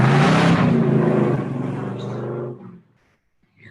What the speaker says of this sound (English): you guys hear that revving? I apologize for the noise.